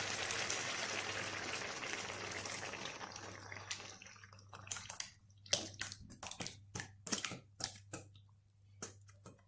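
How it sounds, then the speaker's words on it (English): A high-protein vegan curry with passata and coconut milk simmers in a pot: a soft hiss fades after a few seconds into quiet, irregular bubbling pops and clicks over a faint low hum. "Okay, so that's simmering away."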